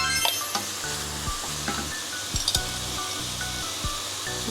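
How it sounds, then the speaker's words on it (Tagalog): Meat sizzles steadily in a hot pan, browning for pancit palabok, with occasional clinks of a utensil against the pan and no talking. "Gisa lang natin hanggang mag golden brown na yung karne natin."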